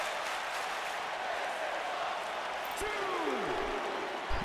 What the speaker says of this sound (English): You hear the VWA crowd going wild